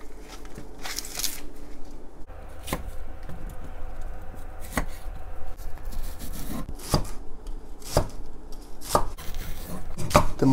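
A knife chops an onion on a cutting board, a run of sharp, well-spaced thuds, some near together, against a quiet kitchen background with no talking.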